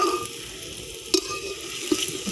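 Onions frying in a pan for a radish curry give a steady, close sizzle, broken by a couple of sharp spoon clicks against the pan as they are stirred.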